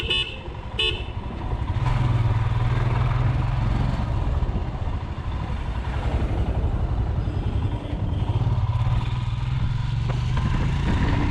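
A motorcycle ridden at full throttle on an Indian highway near the Punjab–Haryana border, its engine droning loud and steady throughout, with wind rush and passing traffic and a couple of brief horn toots early on.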